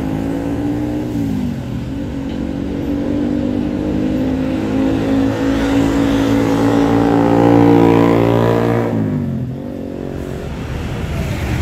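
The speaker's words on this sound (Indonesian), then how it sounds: "Palala unit pertama yang bertugas menuju Rantau sudah langsung gaspol melanjutkan perjalanan menuju Jakarta." A Mercedes-Benz Laksana SR3 Panorama bus pulls away from a terminal, its engine loud and close as it revs up through rising gear pitches before easing off near the end.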